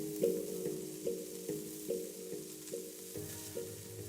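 Burger patties sizzling on a grill in a video game, a soft continuous sizzle with regular rhythmic pulses roughly every half second, alone without talk.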